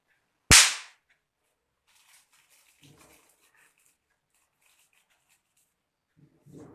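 A single sharp, loud firecracker bang bursts during Diwali, with a short decaying tail, followed by quiet scattered rustling and distant faint sounds.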